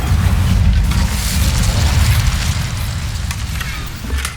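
An Incendio fire spell in Hogwarts Legacy unleashes a loud, roaring whoosh of flame with deep rumbling booms, sustained for several seconds and slowly easing off.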